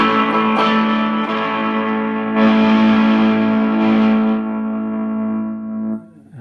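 Electric guitar through an Egnater Rebel 30 amp turned up into overdrive, sustained distorted chords ringing loud and thick, swelling once midway and fading out at the end, with no talking.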